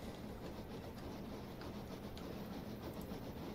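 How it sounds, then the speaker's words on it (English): A steam locomotive rolls past in Train Simulator 2021 on the Torbay line from Kingswear, giving a steady low rumble of rail running with faint rhythmic clicks and no talk. "I think we've got a steam loco coming the other way as well"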